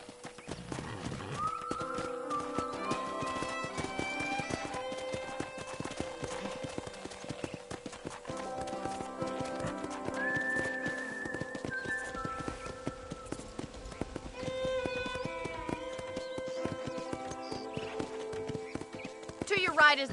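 In the video game Red Dead Redemption, steady clip-clop of horse hooves at a walk beneath melodic background music, with a horse whinnying and faint insect buzzing; voices talk over it.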